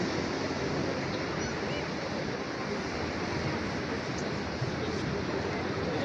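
Sea surf washes onto the shore as a steady, broad roar that stays even and fairly close throughout, with no distinct breaks between waves.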